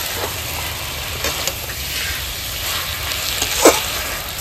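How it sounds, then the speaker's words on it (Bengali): Fried potatoes and prawns go into a pan of banana-flower curry and are stirred, giving a soft continuous sizzle with occasional scrapes and a sharper clink near the end. "আলু আর চিংড়ি মাছ ভাজাটা দিয়ে দিচ্ছি।"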